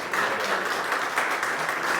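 A church congregation applauds, with steady dense clapping from many hands filling the room throughout.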